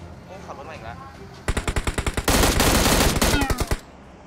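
PUBG Mobile gunfire rings out as rapid bursts of automatic shots, a loud close volley of evenly spaced cracks after a few seconds of quieter game sound and faint talk.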